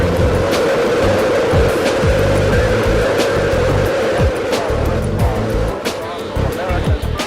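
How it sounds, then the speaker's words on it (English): Space shuttle main engines roar at launch in a dense, steady rumble filling the whole stretch, with a voice speaking over the noise. "We've gone for main engine start. We have main engine start."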